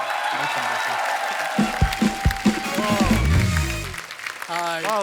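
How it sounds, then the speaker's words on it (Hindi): A studio audience at a comedy show claps and cheers as guests are welcomed on stage, a dense burst of applause that rises and then gives way to a voice speaking. "तालियां रुकनी नहीं चाहिए"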